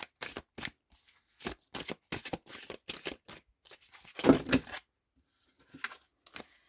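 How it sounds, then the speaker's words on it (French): A deck of oracle cards is shuffled by hand in a string of quick riffling bursts, each a crisp papery flutter, close and fairly quiet, followed by a short pause and a couple of softer card taps. "je suis en train de brasser cet oracle pour choisir 3 cartes"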